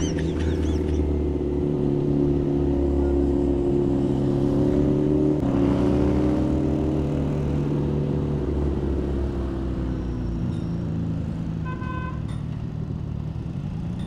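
Three-cylinder 675NK big bike engine on an expressway, droning steadily loud and near with harmonic engine tones that rise and fall through revs and wind rush, no talking.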